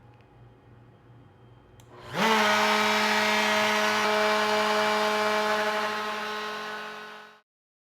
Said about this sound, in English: we can now turn on our router and press play to start the flattening operation